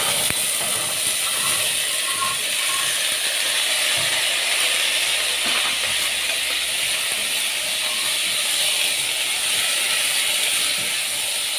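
Fava beans and onions frying in oil in a pan give off a steady, loud, dense sizzle with crackling that runs unbroken and alone from start to finish.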